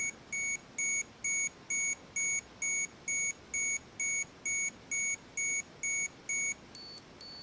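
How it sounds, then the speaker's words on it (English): An Olympus XA4 35mm film camera's self-timer beeps steadily, about two evenly spaced shrill electronic pips per second, faint and close in a quiet room, with the last few beeps shifting higher in pitch. "We can hear the beep."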